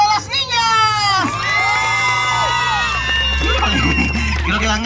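Children at a clown show in Xochitepec, Morelos, shouting and cheering loudly together in a sustained, shrill crowd roar with whoops, rising after a brief lull near the start.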